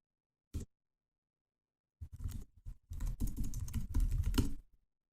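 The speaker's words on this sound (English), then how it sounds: "And finally, I press Enter." A single key tap, a pause, then a rapid run of keyboard presses, close and fairly quiet, with no talking.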